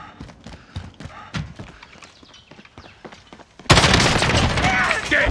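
Gunfire in an Apex Legends shooter match, M13 weapon: a run of sharp, rapid clicks and pops at moderate level, then a sudden loud, dense burst of shots that continues to the end.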